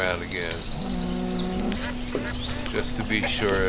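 Ducks quack amid a busy farmyard mix in the village-building game Banished, with cattle lowing and other animal calls layered over continuous ambient game sound.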